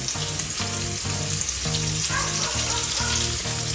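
Crushed dried red chillies fry in hot oil in a pan for a jackfruit thoran, giving a constant loud sizzle with regular pulsing crackle and no talk.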